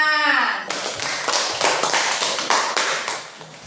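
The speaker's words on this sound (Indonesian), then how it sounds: "silakan tepuk tangan" A brief voice gives way to a class group clapping together, a burst of applause at moderate volume that fades out after a few seconds.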